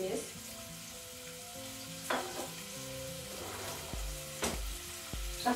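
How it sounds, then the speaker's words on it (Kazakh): Minced meat fries in oil in a hot pot, giving a steady crackling sizzle with a few clattering stirs, set against soft background music tones. "Қызып тұрған қазанымызға майды құйып, фаршты салып қуырамыз."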